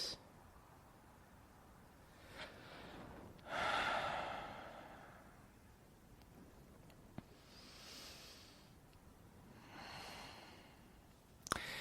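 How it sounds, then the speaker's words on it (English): Slow, deep breaths during a yoga session, faint and close, with a few soft inhale and exhale swells spaced several seconds apart and no talking. "Take 2 more deep breaths."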